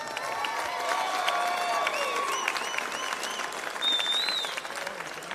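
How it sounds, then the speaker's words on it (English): A crowd at a caged fighting event in Iowa applauds steadily at a distance, with scattered whistles and cheers rising above the clapping. "Let's have a loud round of applause for everybody I just mentioned."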